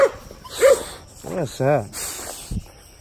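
A pit bull puppy giving short high whines and yelps among quick little barks, close by, with someone talking around it.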